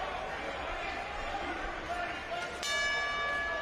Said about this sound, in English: Bell sounds, round number 2 underway.